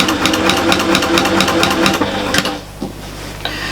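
A sewing machine stitching bias binding onto a fabric storage caddy runs in a loud, rapid, close mechanical chatter, then stops, leaving quiet handling noises and a brief restart at the end.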